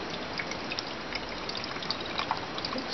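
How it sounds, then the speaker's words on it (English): Water pouring through a small funnel into the tank of a steam cleaner and mop, a continuous close splashing trickle with no talk. "Pour the water in."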